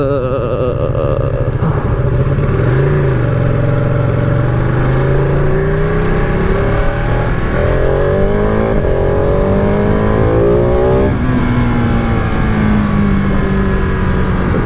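A Ducati Panigale 959 Corse motorcycle engine roars loud and close throughout, its pitch climbing and falling through repeated revs and gear changes with no voices.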